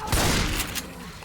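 Gunfire in the video game Left 4 Dead comes as a loud, close burst of overlapping shots and booms, then fades out within about a second.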